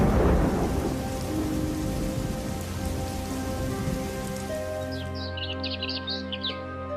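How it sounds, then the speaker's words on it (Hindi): Heavy rain pours steadily on surfaces in a village while thunder rumbles loudly at the start and fades, with faint bird calls chirping near the end. "इस बार उसकी प्रार्थना भगवान ने भी सुन ली थी और गांव में इस बार जमकर बारिश हुई।"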